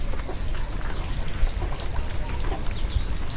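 Rain falls steadily on a farm in bad weather, a soft continuous pattering and hiss with scattered faint bird calls in the background and no one speaking.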